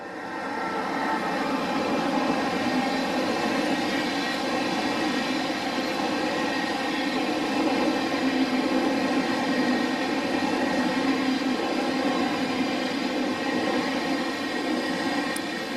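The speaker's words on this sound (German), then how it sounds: "auf Gleis 9 fährt ein Zug durch" EuroCity train from Hamburg to Interlaken Ost running through a station on track 9 without stopping, a loud, sustained rumble and roar with steady tonal whine held for the whole passage, close by, no voices.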